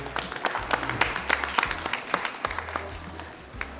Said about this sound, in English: And a big round of applause for the organizers, the founders,